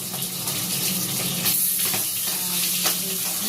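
Fish heads frying in hot oil, a loud, close, continuous sizzle and bubbling crackle with a few faint scrapes, steady across the whole stretch with no talking.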